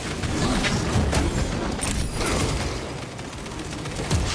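Heavy sustained gunfire in Space Marine 2, a dense continuous barrage of rapid shots with booming impacts, loud and close throughout with no talk over it.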